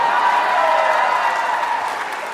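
An audience at a live comedy show cheers and claps in one loud, sustained burst, with whooping voices riding over the noise before it slowly fades.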